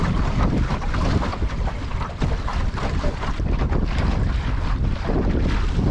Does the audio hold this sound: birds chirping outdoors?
no